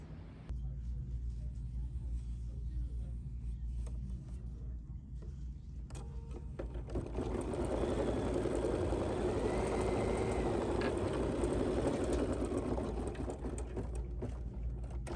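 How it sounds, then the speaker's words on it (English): An embroidery sewing machine stitches a basting outline for a beach tote project. Its quiet, steady mechanical whir grows noticeably louder and busier about halfway through. "select basting feature on my machine"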